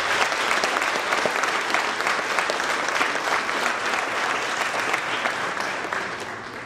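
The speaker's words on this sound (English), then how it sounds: "we would like to also get a round of applause for his brother" Loud, dense applause from a high school audience at a military signing day, steady sustained clapping that fills the space and fades slightly toward the end.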